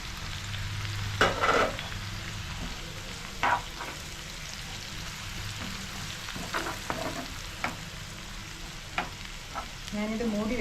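Okra and curry leaves sauté in an open pan, a constant close sizzle punctuated by spatula stirs and scrapes, with a louder burst of frying near the end and no voices.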